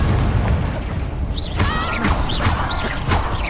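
Incendio fire spells in Hogwarts Legacy burst with crackling whooshes over a dense rumbling game soundscape, several quick blasts in succession.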